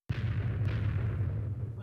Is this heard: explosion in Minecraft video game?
yes